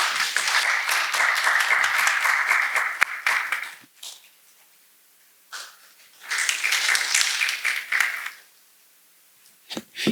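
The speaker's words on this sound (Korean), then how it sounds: "우리 박수로 맞이해 주시기 바랍니다" An audience at a university seminar bursts into applause for several seconds, then falls quiet before a second round of clapping follows and fades.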